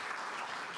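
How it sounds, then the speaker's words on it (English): An audience at a Nashville health summit awards ceremony applauds, a brief, even wash of many hands clapping close by with no voices. "give me another round of applause for Reverend Sanders."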